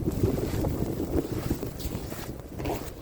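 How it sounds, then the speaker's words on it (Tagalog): Strong gusting wind during a night storm, roaring and buffeting the microphone in loud continuous waves with no clear pauses. "Mahangin man."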